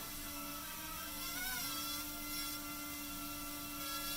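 A small drone controlled by a power glove hovers with a steady high whirring buzz of spinning propellers, continuous and fairly quiet, its pitch dipping briefly midway.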